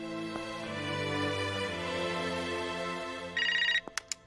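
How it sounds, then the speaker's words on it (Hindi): A home telephone rings with a sustained electronic tone, followed by a brighter trill and a few sharp clicks at the end, loud and close. "वो पूजा घर पे फोन ट्राई कर रही होगी"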